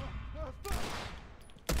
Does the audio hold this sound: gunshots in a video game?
yes